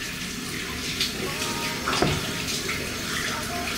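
Water runs steadily from a tap while a face is rinsed after a skin treatment. The close, continuous splashing holds an even level throughout, with a few brief hand splashes and no talking.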